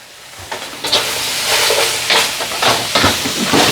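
Green onions hit hot sesame chicken sauce in a pan, setting off a loud, close, continuous sizzle and hiss with bursts of stirring, and no voices.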